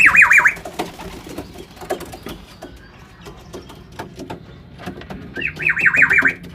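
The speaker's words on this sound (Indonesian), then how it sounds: "Saya melihat burung dara saya," Domestic pigeons in a loft where chicks have hatched and other birds are still on eggs, with two bursts of rolling cooing at the start and end, separated by soft shuffling and light tapping.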